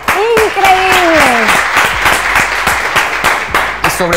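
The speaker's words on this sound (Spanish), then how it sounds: "Entonces, pues un fuerte aplauso, Elvia" A crowd at an Ardyss Life Rise Up business event breaks into sustained applause, a dense, loud clapping with a voice speaking over the first moments before the claps carry on alone.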